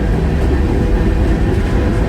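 Freight train rolling on rails through North Dakota grain country, heard from aboard as a steady, loud low rumble and rattle that holds without a break.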